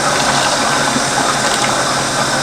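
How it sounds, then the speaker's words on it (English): Blended, slimy ewedu soup is poured into a pot, a continuous close, loud gushing and sloshing of thick liquid with no talking. "So I'll pour into a pot"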